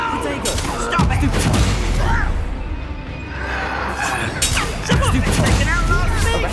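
Spell combat in the video game Hogwarts Legacy: loud, dense bursts of magical blasts, crashes and impacts, with voices calling out over the continuous battle din.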